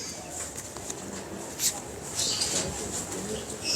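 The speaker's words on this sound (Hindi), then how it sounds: "उस्ताद मलिक बाबर साहब वाले कबूतर हैं" A flock of fancy pigeons at a Lahore loft keeps up a steady cooing chorus, with a brief louder burst partway through and constant outdoor background noise.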